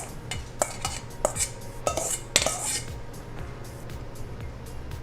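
Dishes and utensils clink several times as food is plated onto a small plate in a home kitchen, sharp ceramic taps scattered over a steady low hum, close and fairly loud.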